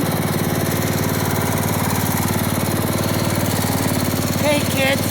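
A free riding lawn mower's engine runs steadily up close, a loud, continuous throbbing drone with rapid regular pulses and no pauses.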